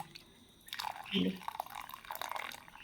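Liquid from cooked greens for a sweet payasam is strained, giving a brief close trickle and drip under someone talking.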